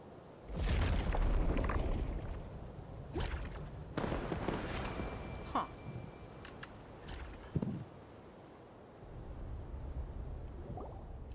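Fireworks in the Genshin Impact video game, a series of deep booms and sharp bursts at irregular intervals with crackling tails, loud and close, followed by a softer rumbling stretch.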